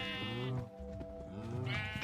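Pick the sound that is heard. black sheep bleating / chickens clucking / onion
black sheep bleating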